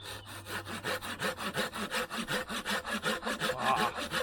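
A saw cuts back and forth through a section of hardwood outdoors, with steady, evenly paced rasping strokes, roughly two per second, loud and close throughout with no talking.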